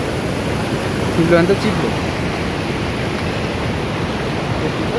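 Water rushes across the Araniko Highway beside Kodari waterfall on the way to the Nepal-China border, a loud, steady hiss of flowing water throughout, with a brief voice speaking over it.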